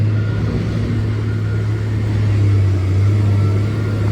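Idling car engine at a fuel station, a steady low rumble holding close and constant with no clear acceleration.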